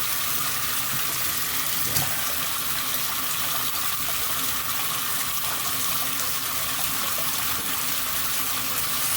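Water trickles and gushes steadily from a leaky Pfister three-handle shower faucet, a continuous broadband hiss with a faint thump near two seconds and no voices.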